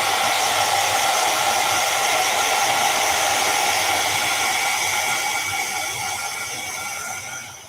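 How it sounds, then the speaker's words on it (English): A heat tool blows steadily to dry paint on a sketch, making a loud, close, continuous whirring hiss that eases slightly toward the end, with no talk. "Let me hit this now with the heat tool."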